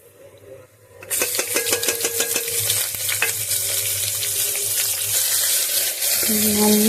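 Onions and curry leaves with a star anise and a bay leaf drop into hot oil in a pan for a soya kuruma, a sudden loud sizzle that keeps crackling steadily up close, with scattered stirring clicks.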